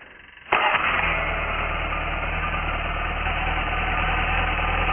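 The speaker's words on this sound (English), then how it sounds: "I hit the ignition" A Jabiru aircraft engine cranks over quietly and then fires, settling at once into a loud, steady idle with a strong low rumble and constant vibration that continues to the end. No one speaks.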